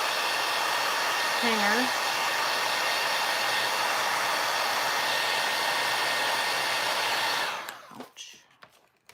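A heat tool blows hot air over a handmade Christmas craft tag, a loud steady airy roar that cuts off near the end, with a short spoken word early on.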